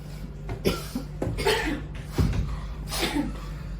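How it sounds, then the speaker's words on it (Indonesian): A person coughs several times in quick, harsh bursts close by, with short pauses between fits. "batuk juga"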